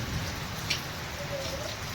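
Rain falls through a nighttime storm with lightning, a quiet, steady hiss of drops that carries on evenly throughout with no break.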